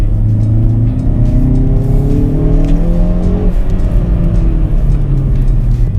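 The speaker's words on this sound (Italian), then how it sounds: "dall'impianto di scarico, perché da questo motore che è un 2000 turbo 4 cilindri" A Hyundai i30N Performance's 2.0-litre turbocharged four-cylinder exhaust drones loudly and continuously, revs rising and falling in smooth sweeps, close up with no talking.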